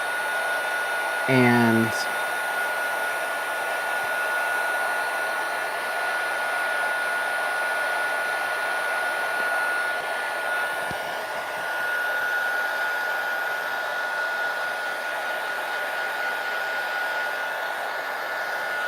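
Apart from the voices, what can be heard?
heat gun used for heat embossing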